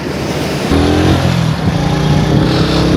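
A motorbike climbing a hilly road near Namal Lake in Pakistan gives a steady, loud engine drone that rises in pitch and strength partway through, with wind noise and no talking.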